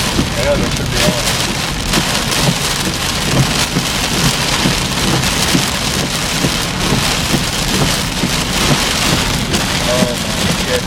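Heavy rain pours down steadily during a severe thunderstorm in Cambridge City, Indiana, loud and close with dense drumming on surfaces throughout, broken by occasional low rumbles of thunder.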